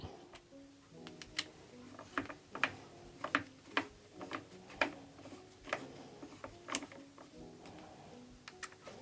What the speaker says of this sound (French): Donc après, il n'y a plus qu'à visser, évidemment.